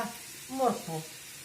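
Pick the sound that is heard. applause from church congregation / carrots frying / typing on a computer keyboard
carrots frying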